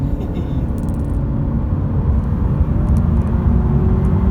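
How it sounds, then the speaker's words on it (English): A Honda Civic with a VTEC turbo engine and CVT gearbox accelerates at full throttle, giving a steady, loud low rumble and engine drone heard from inside the car that holds an even pitch throughout. "and for fun, I can floor the car."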